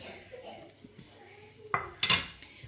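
Ground shrimp mixed with spices in a bowl for Port Said-style shrimp kofta, heard as soft handling noises followed by two sharp clinks of utensil against the dish near the end.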